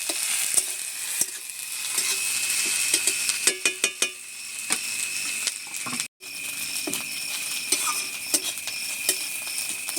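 Ginger-garlic paste and whole spices (cardamom, cinnamon, cloves) fry in oil with a steady sizzle, punctuated by repeated spatula clicks and scrapes against the pan and a brief dropout midway.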